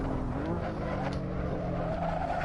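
Race car in the Assetto Corsa racing game under hard braking, a steady loud engine drone with tire squeal layered over it throughout, and a voice briefly audible.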